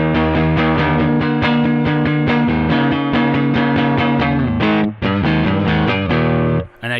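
A clean electric guitar plays steady chords through an amp's clean channel, ringing clearly and up close with a brief pause near the end. No voices are heard.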